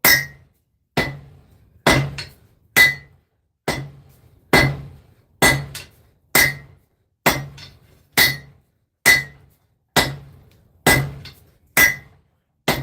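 Heavy 8-pound hammer blows ring out on hot metal during forging, about fourteen loud, evenly spaced strikes roughly a second apart, each with a bright metallic clang and short decay.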